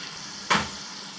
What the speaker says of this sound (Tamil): இப்போது நல்லா வந்து மொறுமொறுன்னு வெந்துடுச்சு